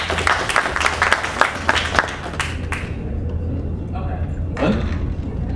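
Brief scattered applause from an audience at a legislative listening tour meeting, sharp claps for about three seconds that fade out, followed by quieter room noise and a soft knock.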